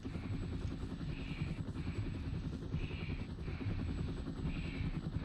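Helicopter in the video game Arma: Resistance, a steady rotor drone holding at an even loudness throughout, with no voices over it.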